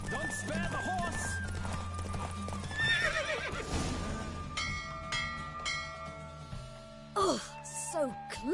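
In a horse race in The Witcher 3 video game, hooves clop and gallop steadily while a horse whinnies, with game music and a bell-like tone layered over, and a voice speaking briefly.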